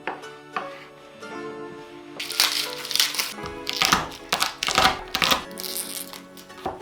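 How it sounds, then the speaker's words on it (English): Knife cutting button mushrooms on a board in a country cabin kitchen: a run of crisp, close chopping taps in irregular bursts, fairly loud and alone with no talk. "Cut up some button mushrooms."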